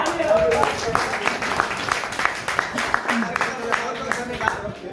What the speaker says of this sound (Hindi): छोटा सा इनाम इसके तालियां।